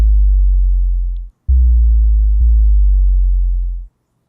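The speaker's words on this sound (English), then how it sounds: "underneath the ship horn, there's an actual sub bass. I'm using a sine wave with some pitch envelope" Sub bass sine wave with a pitch envelope, a drop bass in a hip-hop beat, plays three loud sustained notes, each starting with a quick pitch bend, with a short gap after the first.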